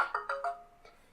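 Phone ringtone, a short series of bright electronic chime notes, fairly quiet and close, ringing alone and fading out within about a second.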